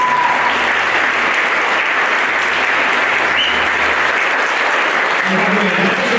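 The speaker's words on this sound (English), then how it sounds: "Let's give them a round of applause." Audience applauding student musicians at a high school year-end music concert, a dense steady clapping from a crowd that fills the whole stretch and tapers slightly at the close.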